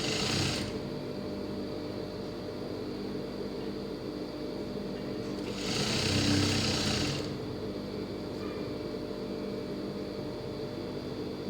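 A sewing machine stitches a blouse with a steady mechanical whir throughout, swelling briefly louder in two short bursts; no voices.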